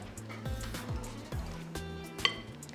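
Dry ingredients for high protein donuts whisked together in a bowl, a quick series of rhythmic scraping strokes with light clinks against the sides, close and fairly quiet.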